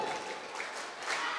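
An audience at a National Waste Awareness Day event bursts into a brief, dense round of applause on cue during a clapping game, filling the moment with a close, steady patter of hands and no clear speech.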